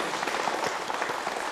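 Applause from a small audience at a casting session, a dense, steady burst of hand clapping up close, lasting the whole moment without voices.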